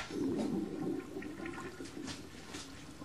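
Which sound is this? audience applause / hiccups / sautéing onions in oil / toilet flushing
toilet flushing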